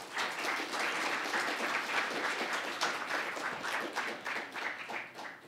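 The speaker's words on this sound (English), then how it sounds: "Round of applause, please." An audience applauds to welcome guest speaker Dr. Peter Vetter at a university spring-semester event, continuous clapping that swells and then gradually thins out.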